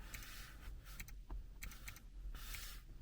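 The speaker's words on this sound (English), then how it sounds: "Very clicky, that keyboard." Bursts of quick, clicky keystrokes on a computer keyboard come in short clusters separated by brief pauses, close but quiet.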